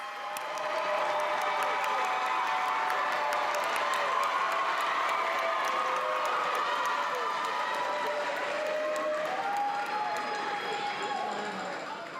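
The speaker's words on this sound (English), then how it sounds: "please stand and give these teachers a round of applause" A large graduation crowd at Eastmoor Academy stands and applauds its retiring teachers, a dense, unbroken wash of clapping and cheering that holds steady for about twelve seconds with whoops and crowd voices mixed in.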